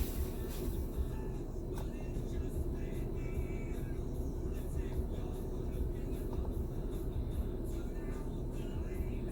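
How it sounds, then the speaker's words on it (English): A van driving along a road, heard from the inside as a steady, dense low rumble of engine and tire noise with a few faint knocks, continuous and close. "I'm driving Mrs. Old Soldier's van"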